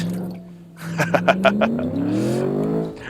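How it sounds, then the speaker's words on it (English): An executive car's V8 engine revs up close, its throaty roar rising steadily in pitch over a few seconds with a brief burst of crackles, heard alone. "The throaty roar of a V8."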